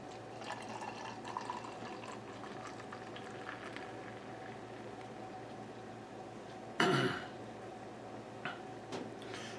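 Irish stout poured into a glass close by, a soft fizzing, bubbling wash with a brief louder splash of liquid midway and a few small clinks near the end.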